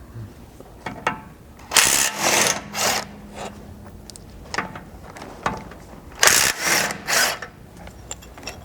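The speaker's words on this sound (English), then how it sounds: "you'll need a 17mm socket to remove the 2 bolts holding the tow hooks on each side" A 17mm socket wrench works the bolts holding a tow hook on a 3rd gen Toyota 4Runner, giving repeated bursts of ratcheting clicks with short pauses between them, close and alone.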